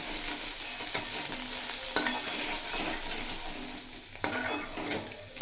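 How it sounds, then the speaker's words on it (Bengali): Ginger-garlic paste fries in a pan for a cauliflower curry, a steady close sizzle broken by a few sharp scrapes and knocks of the spoon as it is stirred. "কিছুক্ষণ ভেজে নেব যাতে আদা রসুনের কাঁচা গন্ধটা চলে যায়"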